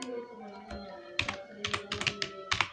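Fingers tap on a computer keyboard in irregular clusters of clicks, close and clear, with a faint tonal background underneath.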